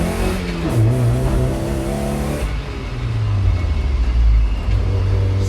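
An Audi drives past close by with a loud engine rumble that rises in pitch as it revs, briefly dips, then surges again as it accelerates away.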